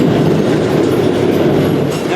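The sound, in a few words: freight train riding at night in Argentina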